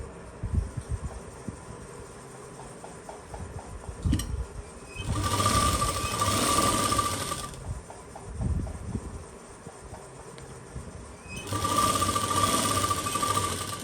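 A sewing machine stitching a pocket onto a palazzo in two bursts of steady rapid whirring, separated by quieter handling of the fabric and machine, without talk.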